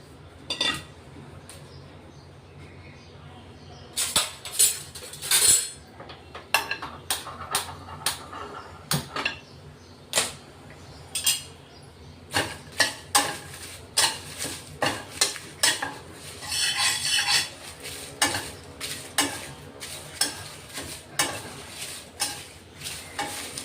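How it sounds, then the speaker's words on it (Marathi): Bay leaves dry roasting in a pan after ground spices, stirred with repeated scraping and clinking of a utensil against the metal in irregular bursts, close and fairly loud, with a faint background hum between strokes. "तेजपानही भाजून घेऊ थोडं।"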